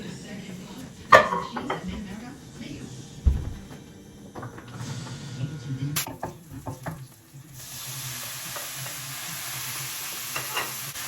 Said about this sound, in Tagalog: nakapag-iwa na ako ng aking sibuyas at ako'y magigisa na po